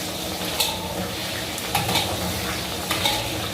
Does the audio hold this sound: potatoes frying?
yes